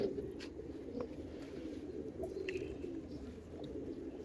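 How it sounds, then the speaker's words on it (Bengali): A pigeon coos softly in a loft amid a steady low hum, with faint chirps and a few light flutters from nearby birds. "দেখেন কবুতর আমি ছেড়ে দেখাই"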